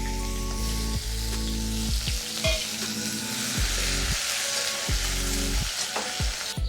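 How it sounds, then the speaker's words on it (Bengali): Chopped onion hitting hot oil in a pan and frying with a steady, loud sizzle. Occasional clatters and scrapes sound over it, with no talking. "তেল গরম হয়ে গেছে, এখন দিয়ে দিচ্ছি পেঁয়াজ কুচি।"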